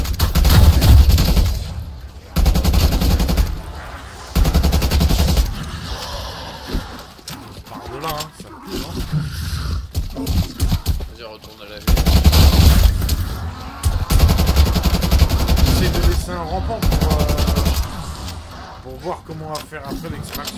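Automatic assault rifle fire in Black Ops Cold War Zombies on the Die Maschine map, with repeated loud bursts and sustained volleys running through the whole stretch alongside game effects and talking voices.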